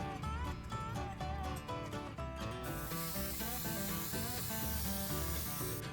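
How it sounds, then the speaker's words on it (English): An airbrush sprays concrete-colored paint lightly and unevenly onto the wood sections of a model railroad gondola: a close, steady hiss that swells into a constant spray partway through, over a tonal background. "I started by lightly and unevenly airbrushing the wood sections of the model with concrete."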